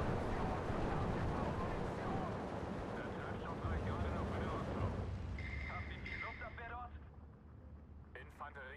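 Mortar fire and explosions in the Steel Division 2 wartime strategy game, heavy rumbling blasts rolling continuously for the first five seconds, then thinning out with talk over the fading battle noise.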